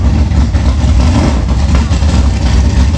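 An old 256 garage wagon car's engine rumbles past at an outdoor car show, a loud, low, continuous drone without breaks.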